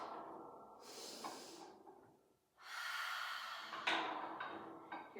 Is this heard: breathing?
yes